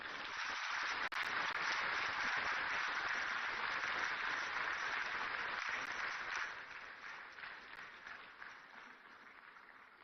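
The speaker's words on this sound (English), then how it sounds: "the spontaneity of the applause shows the quality of the work" A dense wash of audience applause at a national economic dialogue in Accra, sustained and even before thinning slightly toward the end, with no voices over it.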